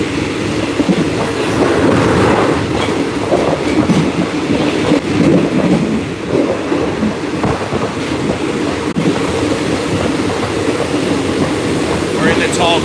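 A train to Kanchanaburi, Thailand rumbles steadily along the rails with a continuous loud roar and faint rhythmic clatter throughout.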